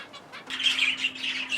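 Zebra finches in an aviary flight give busy, overlapping chirps and squawks that start faint and grow to a steady, lively chatter from about halfway through, with a faint steady hum underneath.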